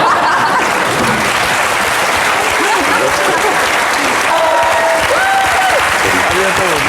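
A studio audience claps and applauds loudly and continuously on a French television show. A host's voice and brief musical tones come through over the steady clapping.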